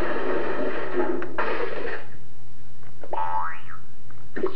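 Cartoon boing effect from a custom Raspberry Pi sound board rings out alone, a springy rising-and-falling wobble following a noisy burst of other sound, fairly loud against a steady low hum.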